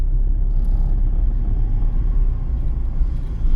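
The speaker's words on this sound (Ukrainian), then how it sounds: "запустили двигун" A car's engine runs at a practical driving exam in Cherkasy, a loud, steady low rumble close by with no talking.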